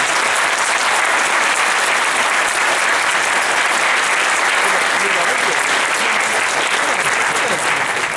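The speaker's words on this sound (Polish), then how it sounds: "Bardzo proszę o brawa dla Stasi" Dense, even applause from a large audience at a National Movement political convention rolls on without pause, loud and continuous.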